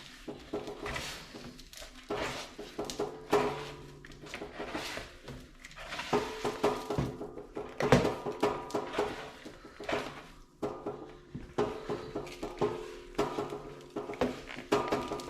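Venison, bacon and seasoning squelch and slap as they are worked together by hand in a bowl, with irregular wet squishes and occasional clinks of the bowl, close and steady.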